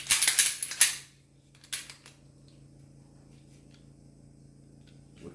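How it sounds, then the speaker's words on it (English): A pistol magazine from an everyday-carry Sig handgun is set down on a hard surface, giving a cluster of sharp metallic clicks and clatter in the first second, one more brief knock, then a low steady hum with no talking. "I'm going to set the magazine right here."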